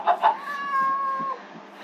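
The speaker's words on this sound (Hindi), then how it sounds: "ओ भाई, यहाँ पे बिल्ली भी है।" A Minecraft cat gives one clear, drawn-out meow, close and moderately loud, after two short vocal bursts. Faint background sound sits underneath.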